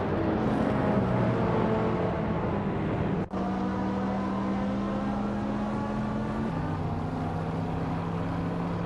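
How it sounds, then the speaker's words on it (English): AI-driven race cars in a racing video game: a steady, close engine drone with sustained harmonic tones that shift pitch mid-clip, one brief dropout, no voices. "Hope you're ready to see some exciting AI car races."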